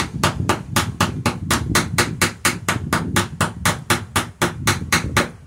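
A hammer strikes rapidly and steadily at a boat rivet backed by a chunk of railroad tie, about twenty sharp metallic taps in an even, quick rhythm, close and loud.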